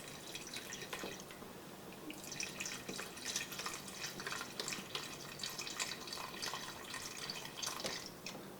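Liquid pours steadily into a pot of chicken and mushroom soup, a soft continuous splashing and trickling that stays fairly faint and close throughout, with no talking.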